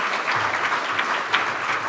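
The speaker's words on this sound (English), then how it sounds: "Give him a round of applause." An audience clapping at a camp event, a short dense burst of applause from a room full of people, steady and fairly loud throughout.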